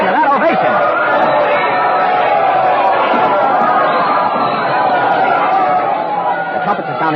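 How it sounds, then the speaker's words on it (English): A large crowd cheers an ovation for the Queen in a sustained, dense roar of many voices that stays loud and unbroken throughout. "The crowd has seen her. They're cheering. Listen to that ovation."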